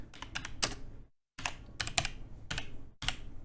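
Someone types a search on a computer keyboard: close, crisp bursts of rapid key clicks, with a short silent gap about a third of the way through before the typing resumes in quick clusters.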